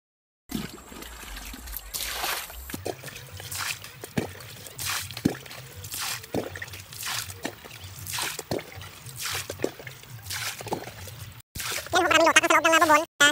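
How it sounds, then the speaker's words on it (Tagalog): A hand-operated water pump is worked in repeated strokes, giving rhythmic splashes and trickling water with squeaky mechanical clanks, close by, ending in a louder gush. "Sinasagahan niya para kumuha ng tubig."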